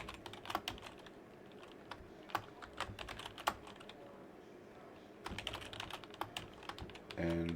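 Computer keyboard typing while a netlist is entered into LTSpice, with quick clusters of close, crisp keystrokes and brief pauses between runs, heard alone without speech.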